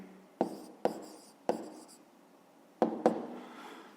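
Pen or marker writing numbers by hand during a fifth-grade maths exercise: a few sharp taps and scratchy strokes in a quiet room, spaced irregularly with longer writing scrapes between them.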